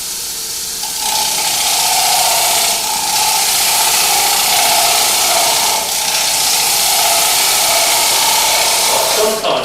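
A woodturning tool cuts a ridge on a spinning wooden bowl, giving a steady, loud, continuous scraping hiss with a faint tonal hum that runs throughout, with no talk over it.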